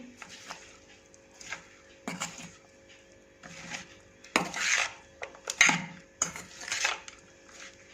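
Spices are stirred into a green turmeric pickle in a bowl, making a series of separate scraping clinks of a spoon against the container that come every second or so, close and fairly quiet.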